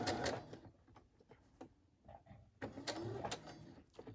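A sewing machine stitches fabric into ruffles as the material is pushed in by hand, running in short, close bursts of fast rattling that stop and start, with brief gaps between runs.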